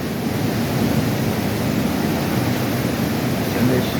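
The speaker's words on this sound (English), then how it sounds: "It's caused a whole maelstrom of water." Floodwater rushing where two rain-swollen creeks meet, a steady loud broadband roar of churning water that fills the whole clip without pause.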